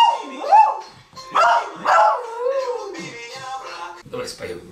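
A dog sings along to a pop song with wavering, pitch-sliding howls and yips. The howls come close and loud over faint music.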